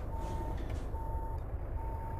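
Reversing beeps from a truck being parked at a street corner in American Truck Simulator, three evenly spaced tones over a steady low engine rumble and traffic noise.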